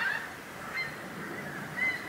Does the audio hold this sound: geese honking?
yes